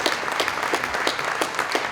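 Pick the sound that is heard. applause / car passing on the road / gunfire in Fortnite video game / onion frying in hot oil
applause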